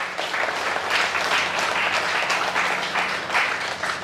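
A crowd at a spiritual gathering applauds loudly and steadily, a dense wash of clapping that holds for about four seconds without letting up.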